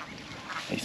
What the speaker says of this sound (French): regardez tous les canards qu'il y a au milieu.